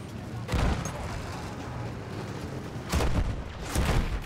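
Gunfire and cannon blasts in the Battlefield 1 video game, heavy booming volleys bursting at intervals over a dense, constant battlefield rumble, loud and close, with no talk.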